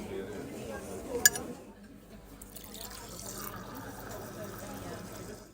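Sparkling water is poured over a tea bag, giving a faint trickling, bubbling fill after a sharp glassy clink near the start, with quiet voices in the background.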